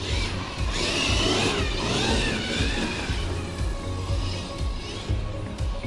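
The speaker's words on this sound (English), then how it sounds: "I can't even get full throttle, guys. That's full." An electric motor on a Traxxas X-Maxx RC car runs hard near full throttle, giving a loud, continuous whining roar with a shifting pitch and rumbling undertones, close and steady.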